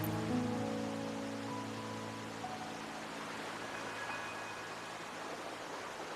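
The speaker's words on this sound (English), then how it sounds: "My granddaughter told me Raguna's rain is a bad omen" Steady rain hisses in the video game Wuthering Waves, a continuous even wash of falling water with a faint low tonal hum fading out early, no talking.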